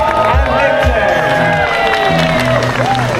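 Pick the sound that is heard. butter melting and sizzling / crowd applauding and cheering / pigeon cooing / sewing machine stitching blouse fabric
crowd applauding and cheering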